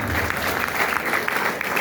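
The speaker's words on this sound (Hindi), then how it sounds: "एक बार तालियां आपके खुद के लिए हो जाए" An indoor seminar audience claps together, a brief dense burst of applause at moderate distance.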